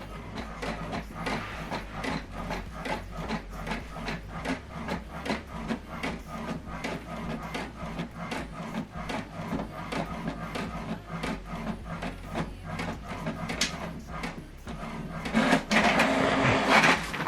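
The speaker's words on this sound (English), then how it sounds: "So this document now is going to print." An HP printer prints a document sent from a mobile phone, with a steady rapid mechanical chatter of regular clicks and rolling feed noise throughout, close by, and a louder burst of paper movement near the end.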